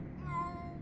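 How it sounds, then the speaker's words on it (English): A cat meowing in a horror demo game, giving one short, drawn-out mew at moderate loudness over faint background ambience. "There's a cat somewhere!"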